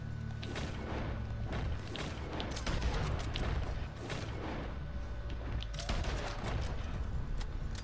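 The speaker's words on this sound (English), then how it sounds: "they're still trying to shoot at me" Rapid gunfire in the online Western game Red Dead Online, with many sharp shots and thumps in a dense, continuous volley over a low rumble and no talk.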